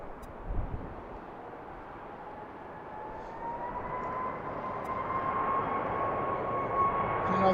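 A Southwest airliner departing at BWI in golden-hour light swells gradually from a distant hiss into a louder jet roar with a rising engine whine, growing steadily nearer.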